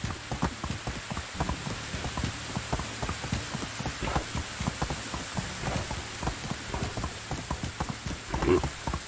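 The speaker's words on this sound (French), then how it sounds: "Heureusement que j'ai un cheval hein" Horse hooves clip-clop steadily in the Medieval Dynasty video game, a rapid even patter of hoof strikes over a constant rain-like hiss, with no voices.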